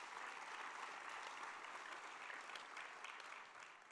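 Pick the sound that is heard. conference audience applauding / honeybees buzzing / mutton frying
conference audience applauding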